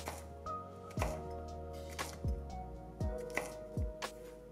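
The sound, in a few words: knife cubing potatoes for home fries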